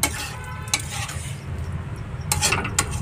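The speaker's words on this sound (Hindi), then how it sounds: "थोड़ा सा और भूज लेते हैं फिर निकालेंगे।" Pasta being stirred and fried with Maggi masala in a pan, loud close sizzling with repeated sharp spoon scrapes against the metal; no talking.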